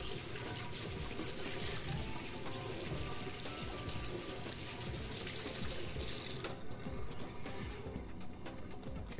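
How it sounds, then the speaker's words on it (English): Tap water runs steadily into a kitchen sink as hands are washed, a continuous close splashing hiss that shifts slightly near the end. "I'm just going to wash my hands."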